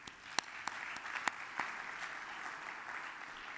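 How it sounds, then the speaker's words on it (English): An audience at a conference plenary luncheon applauds steadily, with sharp individual claps standing out over a dense, moderately distant wash of clapping. "Let's give these cities also a big round of applause."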